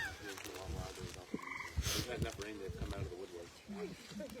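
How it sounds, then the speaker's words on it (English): Frogs croaking at night, a chorus of repeated warbling calls in the background while someone speaks over them. "those are frogs making singing noises, not birds"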